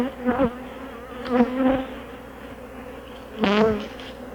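Honey bees fly close past the microphone at an open hive, with several short buzzing passes rising and falling over a quieter hum of the colony.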